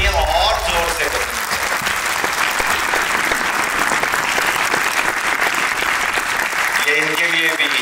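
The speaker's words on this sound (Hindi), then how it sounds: "तालियां और जोर से बजाएं।" A large audience at a Sikh arts and film honours event applauds loudly and continuously, a thick, even roar of clapping that fills the hall, with a voice briefly heard at the start and end.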